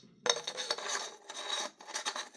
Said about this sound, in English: you've got two grub screws which use a 3mm Allen key, and you basically tighten them up